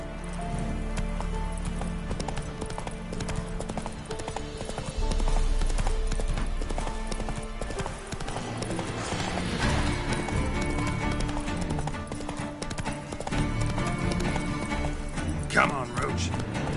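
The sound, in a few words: horse hooves and neighing in the video game Witcher III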